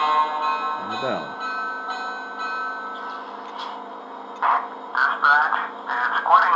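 Bell on a Lionel scale GG1 model train locomotive ringing steadily under a continuing background tone, with brief voices breaking in toward the end.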